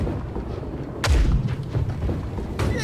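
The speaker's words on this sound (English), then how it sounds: "get ready with starboard cannons" Ship cannons boom in Blackwake during a naval battle, a heavy deep blast landing just after one second, then another sharp report near the end, over a constant low rumble of sea and wind, with no one speaking.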